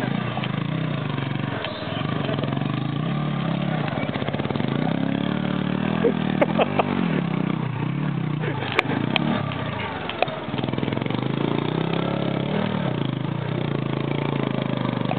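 Motorcycle engine idling during off-roading near Alambarai Fort, a close, steady, rumbling drone that holds throughout with slight rises and a few sharp clicks.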